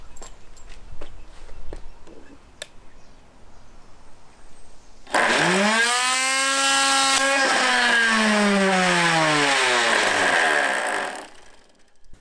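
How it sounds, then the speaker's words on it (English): A starter motor for a Jerry Howell V-twin model IC engine, with a drill chuck fitted, spins on a battery pack. It gives a loud, steady electric whine that kicks in abruptly, holds for about six seconds, then winds down. "To check the speed of this starter motor, I've hooked up my battery pack."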